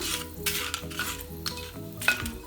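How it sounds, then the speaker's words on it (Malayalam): Whole spices, including a small piece of mace, fry in hot oil for a creamy white chicken curry, a close continuous sizzle broken by a few light metal stirring scrapes and clinks. "അങ്ങനെ നമുക്ക് ഹോൾ മസാലകളെല്ലാം ഒന്ന് എണ്ണയിലൊന്ന് ഫ്രൈ ചെയ്തെടുക്കാം"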